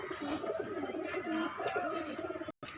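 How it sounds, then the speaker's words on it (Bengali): A pair of Dabla pigeons coo softly in a low, repeated rolling pattern, with faint background noise and no clear speech. "এই এক পেয়ার ডাবলা কবুতর আছে"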